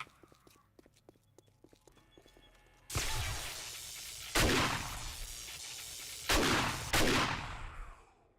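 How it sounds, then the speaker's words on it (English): Automatic turrets in 7 Days to Die open fire in the middle of the clip in loud, sustained bursts that pulse in several surges, following a quieter stretch of light clicking and clattering. "Turrets doing their job."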